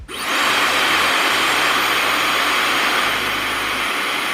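A Dyson Supersonic hair dryer blows a loud, steady airy whoosh up close, and its motor pitch steps down slightly partway through as the speed setting changes. No voices are heard.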